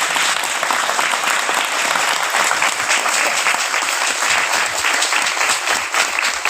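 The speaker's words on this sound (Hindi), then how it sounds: "तालियां बजाएंगे" A church congregation breaks into sustained, vigorous applause at a Christian sermon gathering, dense, even clapping filling the hall without pause.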